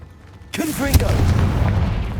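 Confringo fire spell from Hogwarts Legacy, a sudden close booming blast followed by a sustained rumbling roar, with a voice calling out the spell just as it goes off.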